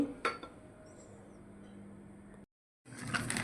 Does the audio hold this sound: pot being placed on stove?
yes